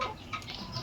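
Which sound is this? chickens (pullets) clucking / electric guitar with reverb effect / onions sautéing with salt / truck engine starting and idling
chickens (pullets) clucking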